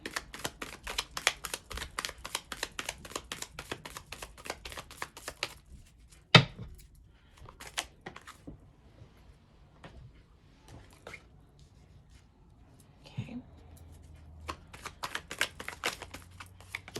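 Tarot cards riffle and shuffle in rapid, crisp bursts for several seconds, followed by a sharp tap and scattered softer card handling, quiet and close with no talking.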